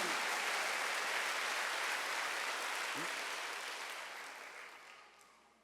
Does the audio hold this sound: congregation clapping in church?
yes